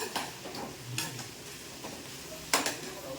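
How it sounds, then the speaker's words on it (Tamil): Grated coconut stirred into a bean stir-fry in a pan, a few soft, quiet scrapes and taps of the spoon with a sharper clink near the end. "தேங்காயை போட்டு கிளறி விட்டு"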